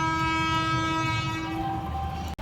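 A passenger train pulls out of Porbandar station with a long, steady horn blast over the rumble of the cars. A sharp click comes at the very end.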